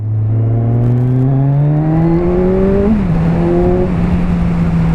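A 2017 Kawasaki Z1000 motorcycle engine on a test ride, loud and close, climbs steadily in pitch under throttle, then briefly drops at a gear change before pulling on again with a smooth, continuous drone.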